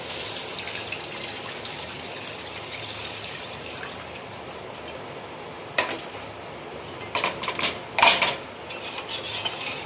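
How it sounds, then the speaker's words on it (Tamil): Water pours steadily into a cooking pot of boiled mutton for traditional Seeragasamba mutton biryani, a continuous soft gush with a few clinks of metal against the pot. "அந்த தண்ணியை அதில் ஊற்றிக்கோங்க."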